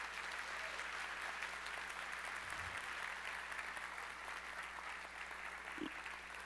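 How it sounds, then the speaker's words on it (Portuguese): A church congregation claps in a steady, dense wash of applause that holds at a constant level throughout, heard from a distance and fairly faint. "Você pode levantar melhor esse aplauso?"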